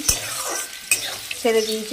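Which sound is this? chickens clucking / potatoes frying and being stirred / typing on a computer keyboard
potatoes frying and being stirred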